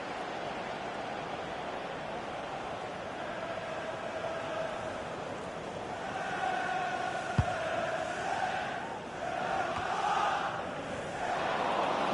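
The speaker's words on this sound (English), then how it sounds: "Yeah, the crowd were on their feet." Crowd noise in a football video game during an Everton career mode match, a steady broad stadium roar that swells slightly midway, rising as fans get to their feet after a near-miss volley, with no talking.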